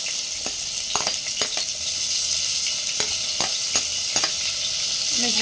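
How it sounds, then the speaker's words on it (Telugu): Thinly sliced onions and green chillies frying in hot oil for street-style batani chaat, a constant close sizzle broken by several quick spatula scrapes and taps against the pan. "ఆయిల్ వేడెక్కాక మనం సన్నగా తరుక్కున్న ఉల్లిపాయలు ఆనియన్స్ సన్నగా తగిన పచ్చిమిర్చి"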